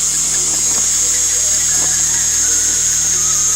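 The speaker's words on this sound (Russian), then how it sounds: "болгаркой с резиновым кругом." Angle grinder fitted with a rubber disc polishing scratched bicycle handlebars, a steady high-pitched whine that runs without a break, loud and close, with faint scraping under it.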